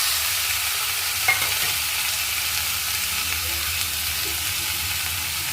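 Small mola fish with onions sizzling in a hot pan, a steady loud hiss of frying with a brief scrape of stirring near the start, no talk.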